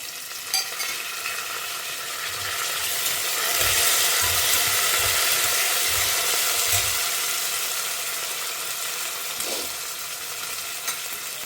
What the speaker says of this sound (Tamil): வெங்காயம் பூண்டு எல்லாத்துலேயுமே கொஞ்சம் வேகிற அளவுக்கு, வதங்குற அளவுக்கு நம்ம இதை வதக்கிக்கலாம்